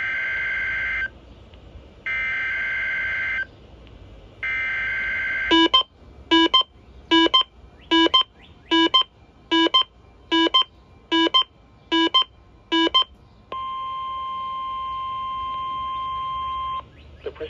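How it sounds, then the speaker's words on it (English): National Weather Service warning alarm tone on a Uniden Bearcat WX500 weather radio: a steady pulsed tone, then a rapid series of about a dozen even beeps, then a long continuous high tone, loud and alone. "was a test of the National Weather Service warning alarm tone"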